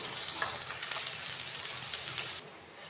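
Sliced onions for egg biryani fry in ghee with a spoonful of sugar, a quiet, close, crackling sizzle with small popping bursts that drops off sharply near the end; no voices.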